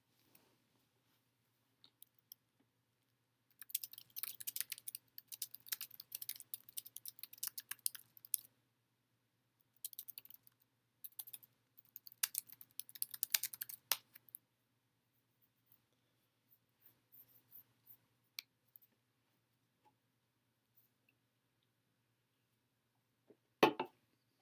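A computer keyboard clatters with quiet, close keystrokes in irregular bursts, with pauses between them and long stretches of silence toward the end.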